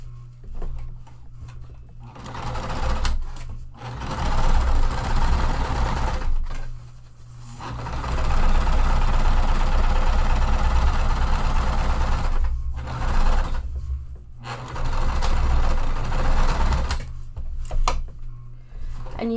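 A sewing machine stitches a single center line on a tote bag in several loud, sustained runs, with short pauses between bursts of rapid needle chatter.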